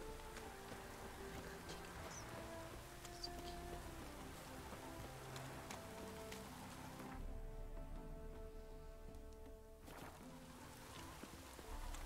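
Steady rain falling in the fantasy video game Witcher 3, a dense continuous patter, with the texture briefly shifting partway through as if the rain surface or ambience changes, then returning to the same wash.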